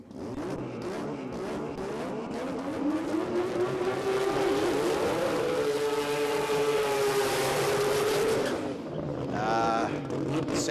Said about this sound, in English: Sound of a rotary.